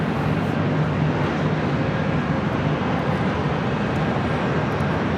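An airplane departs from LAX with a continuous, fairly loud broadband jet rumble that stays level from start to finish, with no talking.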